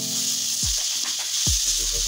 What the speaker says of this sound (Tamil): இன்னும் ஒரு நல்ல ஒரு 5 நிமிஷம் வந்து லோ ஃப்ளேமில் வச்சு வதக்கிக்கோங்க